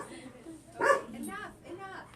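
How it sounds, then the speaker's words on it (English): A puppy gives a few short yips and barks indoors, fairly quiet and mixed in with people talking nearby. "Do we have a puppy that came in the door, Lewis?"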